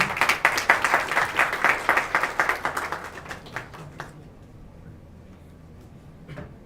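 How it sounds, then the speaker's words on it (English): A small audience claps at a Model United Nations event, quick individual claps thinning out over about four seconds and fading into room quiet. "A round of applause, please."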